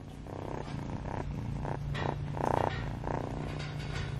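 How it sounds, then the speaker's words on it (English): A cat purring close by, a soft continuous rumbling motor with gentle rhythmic swells on each breath, heard alone without talk. "do you guys hear a purr?"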